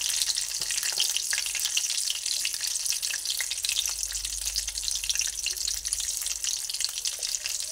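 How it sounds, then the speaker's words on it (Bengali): Bay leaves and black cumin seeds fry in oil in a pan for a pumpkin dish, giving a continuous, fairly soft sizzle and crackle with no pauses or voices. "একসঙ্গে একটু ভেজে নিচ্ছি।"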